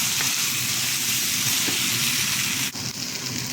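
Lasagna meat sauce sizzles steadily in a pan as it is mixed, a loud continuous crackling hiss with a brief scrape of the utensil near the end, no voices.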